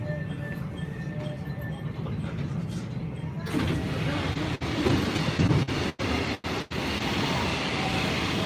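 A train rolls past on rails, a steady loud rumble with clattering wheels that grows heavier midway and is broken by sharp gaps, with a faint voice early on.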